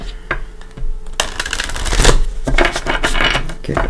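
Tarot cards being shuffled by hand at close range, a few light taps and then a dense run of riffling, papery clatter that swells and eases in bursts, with no talking.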